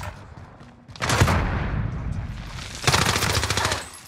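Gunfire in a video game: a sustained automatic burst rattling for nearly two seconds, loud and close, then a short pause and a second rapid burst of shots, with no talk over it.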